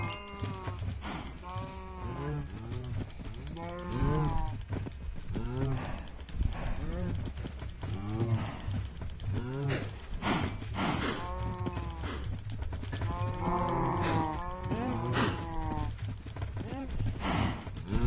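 Minecraft cows moo and sheep bleat repeatedly on a farm, with a series of close, overlapping animal calls heard beneath and between someone talking.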